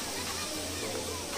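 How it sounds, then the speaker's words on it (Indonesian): Waterfall at Sikulikap plunging steadily, a broad continuous rush of falling water filling the scene at close range, with people talking over it. "Air terjunnya."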